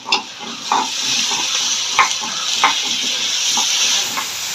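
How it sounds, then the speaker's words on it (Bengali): Ginger paste is stirred into garlic paste frying in hot oil, giving a close, continuous sizzle with a hissing edge, broken by soft scraping stir strokes every second or so, with no talking. "এবার আমি আদা বাটাটা দিয়ে দিচ্ছি"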